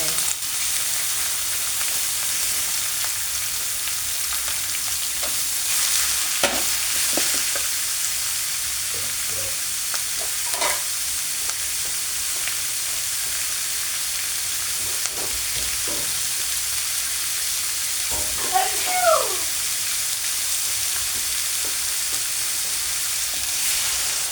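Steady frying sizzle of beef in a pan, with occasional scrapes and clanks of stirring; no talking.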